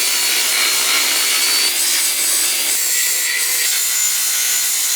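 Steady, harsh rasping saw cut through a steel truck frame section during a custom 4-link back half build on an LBZ truck, continuous and close, with a bright gritty hiss and no talking.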